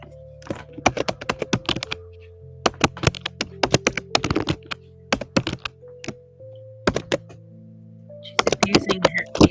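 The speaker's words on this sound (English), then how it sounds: "She's abusing her keyboard." Someone types hard and fast on a computer keyboard, with bursts of sharp, loud key clacks broken by short pauses and a low steady hum underneath.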